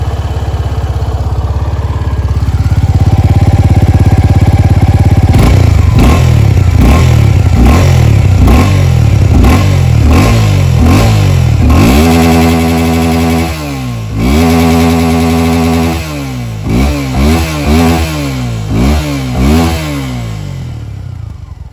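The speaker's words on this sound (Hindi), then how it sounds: "अब जो है क्विकली एग्जॉस्ट साउंड सुन लेते हैं" A Suzuki Gixxer SF250 motorcycle exhaust revs repeatedly, loud and close, with sharp throttle blips rising and falling in quick succession, then a few slower revs near the end.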